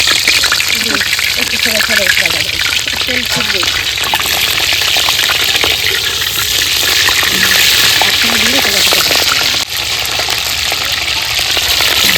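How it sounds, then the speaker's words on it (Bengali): Cauliflower frying in hot white oil in a wok, giving a continuous crackling sizzle, with a person talking over it for much of the time. "ফুলকপিটা ভাজা হচ্ছে"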